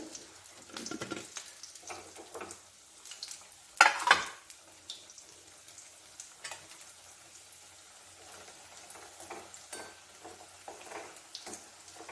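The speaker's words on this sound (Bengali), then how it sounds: "এরপরে আমি আরেকবার ভাজবো" Chana dal pakoras fry a second time in oil with a soft, low crackling sizzle, broken by a louder splash of bubbling near the start and scattered pops afterward.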